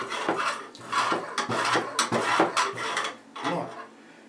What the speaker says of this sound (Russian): Вот так вот устанавливаем нож и возвратно-поступательными движениями с нужным нам углом затачиваем его.